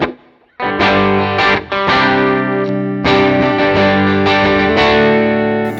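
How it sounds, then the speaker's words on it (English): An electric guitar runs through an overdrive amp preset on a Line 6 HX Stomp, playing loud distorted chords and sustained notes with brief pauses, alone and without talk. "Now I really liked the overdrive that I had"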